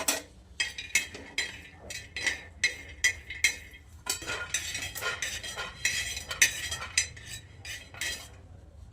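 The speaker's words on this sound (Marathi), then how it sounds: "भाजून घेऊयात आपण हे ना मस्त भाजून घेऊयात" Sago pearls dry-roasting in a pan, stirred with a metal spoon, giving rapid rhythmic clinks and scrapes against the pan, close and fairly quiet, ending in a busier rattling of the pearls.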